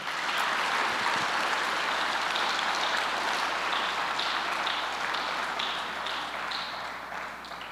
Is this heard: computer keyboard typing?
no